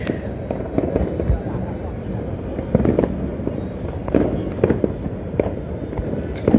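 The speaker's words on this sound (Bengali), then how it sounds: "রাজধানীতে এরই মধ্যে আতসবাজি ফুটিয়ে নতুন বছরকে কিন্তু স্বাগত জানাচ্ছে রাজধানীবাসী" Fireworks bursting over Dhaka on New Year's Eve, a continuous crackle of sharp pops and bangs at varying distances, some near and loud, others faint, with a busy outdoor background of crowd noise.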